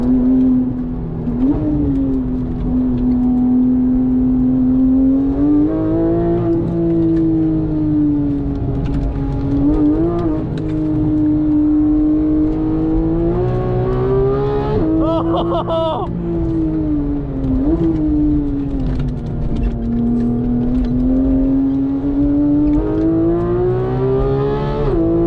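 A Porsche 991.1 GT3 engine with PDK gearbox howls around a track, its loud, close note climbing and dropping repeatedly as quick gear shifts and braking break up the sustained wail, with no talking over it.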